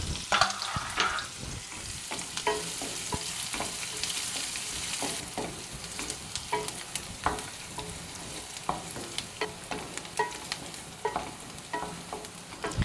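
Onions and green chillies frying in a pan for chitrannam, a soft steady sizzle broken by repeated scraping and clinking of a spoon stirring against the pan, close up, with no voices.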